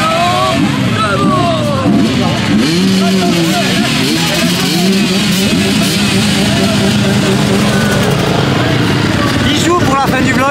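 A rally car at the Aveyronnaise Classic 2023 races past with a loud, sustained engine roar, revving and shifting against a busy, noisy background of crowd sound throughout.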